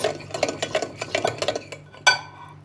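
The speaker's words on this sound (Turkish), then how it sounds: "iyice karıştırıyoruz" A spoon stirs food in a pan in quick rhythmic scrapes and clinks, about a dozen close strokes, ending with a sharper metallic knock against the rim.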